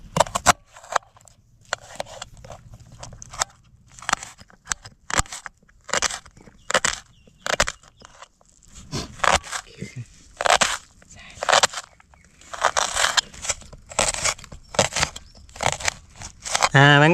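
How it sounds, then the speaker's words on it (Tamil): A knife chops onion on a cutting board for a bread omelette in a home kitchen. Sharp, crunchy cuts come close and in quick irregular bursts throughout, with brief pauses between runs. "வெங்காயத்தை வெட்டிக்கிடுவோம்."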